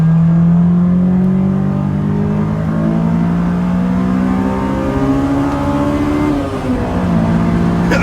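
A 2003 Honda S2000 engine running with no exhaust fitted, revving loudly and steadily with a rising, buzzy drone that dips briefly near the end, close up with no talk.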